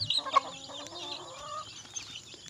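A mother hen clucks close by on a small farm, a few soft, low clucks in a loose rhythm with quiet background.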